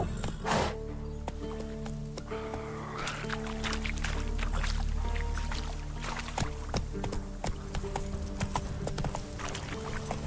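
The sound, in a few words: horse hooves clip-clopping while riding in video game The Witcher 3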